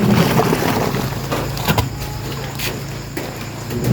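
An Astron washing machine wash motor spins during a bench test, a steady fairly loud whirring hum with a few brief knocks and clicks, no talk.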